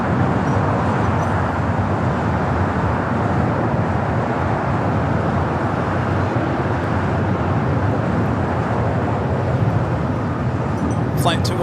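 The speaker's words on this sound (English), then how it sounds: "Flight 215 coming up from Dubai, the 6-year-old A380 Super running about 13 minutes early here" An Emirates Airbus A380 on flight 215 from Dubai arrives at LAX with a broad, steady jet roar at moderate distance, rumbling evenly throughout with people talking faintly underneath.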